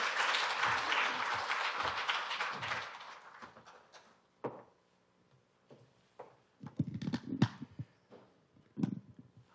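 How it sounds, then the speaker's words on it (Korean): Audience applause welcoming a speaker at an AI forum hall, a dense wash of clapping for about four seconds that fades into scattered thumps and light taps. "네, 박수로 맞이합니다."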